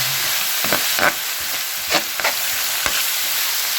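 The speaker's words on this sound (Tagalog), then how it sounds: "Ganyan ako mag-gisa. Dinidiinan ko yung mga panggisa." Aromatics sautéing in a hot pan for Kapampangan asado, a steady broadband sizzle with several soft scraping presses and stirs breaking through at irregular intervals, close and alone with no talk.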